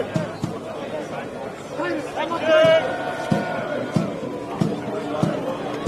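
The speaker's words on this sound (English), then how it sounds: "United fans cheering." Sydney United 58 fans cheering and shouting at an NPL Men's NSW football match against St George FC, a rising crowd roar with scattered sharp thumps and nearby chatter over the continuous stadium noise.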